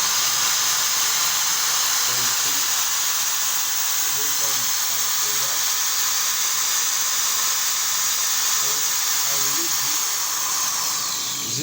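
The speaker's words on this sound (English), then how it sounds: "I power the drilling machine." A 750-watt electric drilling machine powered from an inverter runs at a steady, loud high-pitched whine with a constant motor hiss throughout, while someone talks faintly underneath.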